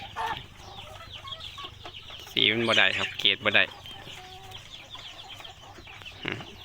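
A meat-breed breeding rooster clucks in a loud, rapid burst of harsh calls midway through, with someone talking in Thai before and after.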